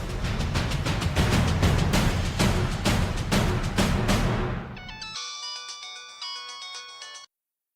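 A telephone ringtone plays loud and close, first a fast run of repeated rings over a low hum, then a cleaner electronic melody of stepped notes that cuts off abruptly.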